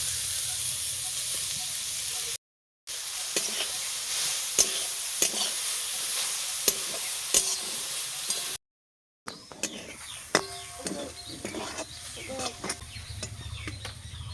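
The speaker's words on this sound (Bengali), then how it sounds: "গাজরটা ভালোভাবে ভাজা হয়ে গেছে" Carrots frying in ghee in a wok give off a low, steady sizzle under repeated scraping and stirring clicks of a spatula, with two short silent gaps, then busier stirring toward the end.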